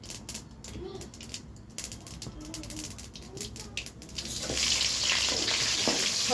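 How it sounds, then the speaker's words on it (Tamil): Mustard seeds crackle and pop in hot cooking oil alongside fenugreek, cumin and fennel for a fish curry. Scattered sharp pops come first, then a loud, continuous sizzle swells up near the end. "கடுகு வெடிக்குது."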